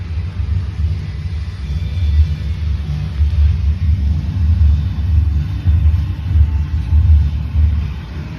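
A car engine with a cracked exhaust idles in a deep, steady low rumble that pulses gently, close and without speech.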